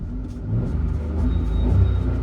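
A Maruti car running on CNG rumbles close by with a low, steady engine drone that rises slightly in strength, with no voices over it.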